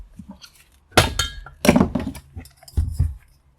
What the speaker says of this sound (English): I'm just going to tap on the bottom with the hammer.